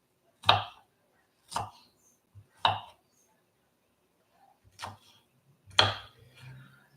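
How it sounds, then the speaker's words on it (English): A knife chops onions on a board in a few separate strokes, each a sharp close knock with pauses between, in a quiet kitchen. "chopping up onions is like the most hated thing to do"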